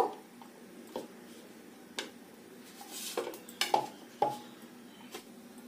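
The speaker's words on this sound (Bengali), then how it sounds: "নিয়ে একটা বাটির সাহায্যে এমন ভাবে একটু চেপে নেব, একটু ম্যাশ করে নেব" Boiled jackfruit seeds are pressed and mashed with a bowl, giving scattered soft knocks and scraping clinks against a dish, quiet and close, with no talk.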